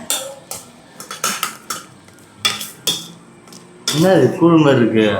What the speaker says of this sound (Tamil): இப்போ திருப்பி நான் வேக வச்சு இதில் சேர்த்து கிளறி பொங்கலை கிண்டுவோம் பாருங்க